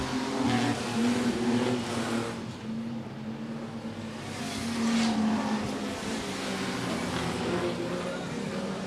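Modified production race cars roar around Gympie Speedway at night, a steady loud engine drone with swelling passes as the pack circulates, crowd-distant and continuous throughout.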